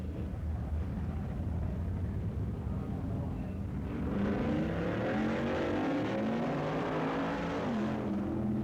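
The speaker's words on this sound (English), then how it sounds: "Next up, the Tasca Ford entry and Don Nicholson's Comet." Two drag cars at a 1965 drag race, a Tasca Ford Mustang and a Mercury Comet, idle with a loud rumble, then roar as the engines rev up and accelerate hard halfway through, the pitch climbing steadily.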